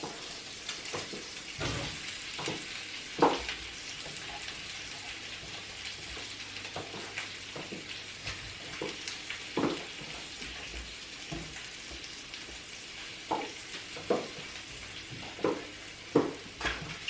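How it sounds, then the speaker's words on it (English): Mushrooms and bacon fry together in a pan with a steady crackling sizzle. Scattered louder pops and the scrape of a utensil stirring break through at irregular moments, moderately close and without talk. "So I might even just drop the mushrooms in with the bacon."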